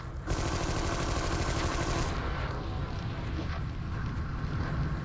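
Gunfire from the Armed and Dangerous video game, a land shotgun firing amid dense, continuous battle noise, with a bright burst early on giving way to a steady rumbling din of shots.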